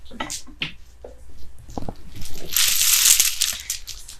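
Close, irregular clicking and rattling of small beads knocking together, building into a brief bright shaking rustle before fading to scattered clicks.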